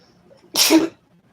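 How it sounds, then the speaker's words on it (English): One sharp, loud sneeze erupts close by in a quiet room, brief and forceful. "That sneeze hurt my back."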